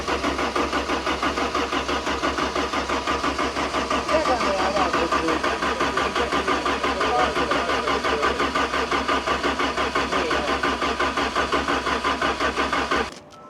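New race-car engine in a cold setting being cranked over and over without firing, a rapid rhythmic churning of the starter that runs steadily and close for about thirteen seconds before cutting off abruptly.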